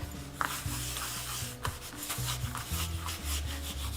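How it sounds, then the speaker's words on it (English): An adhesive sheet being rubbed firmly onto a cutting mat for a Brother ScanNCut: steady close scraping and rubbing strokes with a few sharper taps, alone with no talk. "I always rub it very well so that it sticks to my mat"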